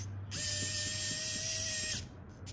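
An electric screwdriver running for about a second and a half with a steady whine, its clutch ratcheting in rapid clicks as it torques out on a head bolt, close and alone.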